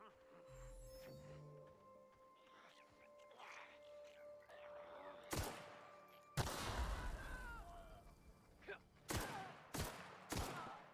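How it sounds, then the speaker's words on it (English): Video game gunfire with a few sharp bursts and bangs in the second half. Quieter game sounds and tones come first. "I'm starting to shoot."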